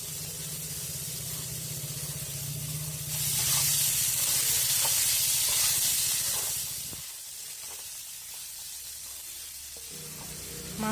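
Boiled pork fries with ginger garlic paste and onion in a pan, giving a continuous hiss that swells into a louder, spraying sizzle for a few seconds before easing back to a softer frying sound.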